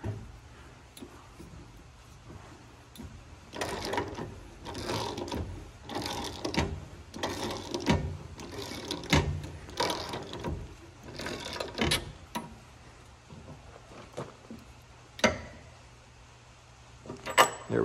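Close, quick clicking bursts of a hand ratchet running a bolt back in on a Gleaner R72 combine being set up for corn, in irregular clusters with pauses and a few sharper knocks near the end.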